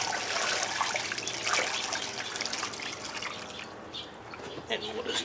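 Dirty water poured out of a small pan during gold trommel cleanup, a steady splashing trickle that fills the whole stretch and tapers off near the end.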